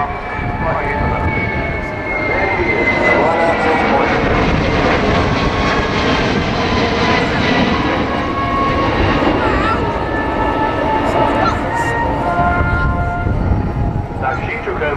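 Loud, steady roar of a large military air-to-air refuelling tanker's jet engines at an RAF Cosford airshow, filling the whole span with a broad, sustained rumble and whine, with a voice talking faintly underneath.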